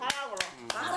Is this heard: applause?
yes